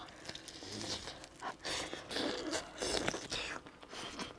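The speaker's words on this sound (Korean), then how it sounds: "맛있는 후라이드에 새우 향 나는 후레이크를 뿌려갖고 더 바삭해" Bites into crispy BHC fried chicken coated with garlic and shrimp-scented flakes, giving close crunchy chewing and crackling in repeated bursts, with no talk during the chewing.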